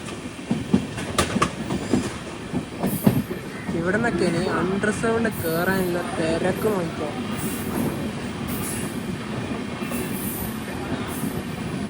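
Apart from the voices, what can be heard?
train arriving at Thalassery railway station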